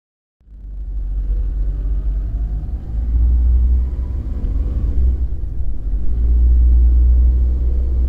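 A car starts up and drives along a back street in a Japanese audio drama, a deep, loud, steady engine rumble that swells slightly partway through and holds with no voices over it.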